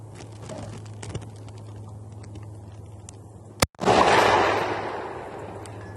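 A single sharp rifle shot from a Lanxang Tactical CAS-22 or VL34 DMR cracks out of quiet outdoor ambience, followed by a brief rushing echo that slowly fades.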